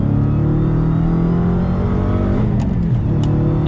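A Dodge Challenger Hellcat with a 6-speed manual pulls hard on throttle, its engine a loud, steady droning roar heard from inside the car. Its pitch dips briefly near the end, as if shifting gear.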